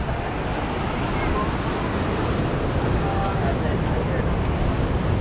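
Morning surf rolling in at Kuta Beach, Bali, a steady broadband wash of waves with wind buffeting the microphone, continuous and fairly loud from start to finish.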